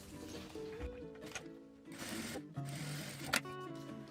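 A sewing machine stitching a straight seam along a fabric strip lined up with plastic, running in a steady, quiet whir with small pauses and shifts in pitch.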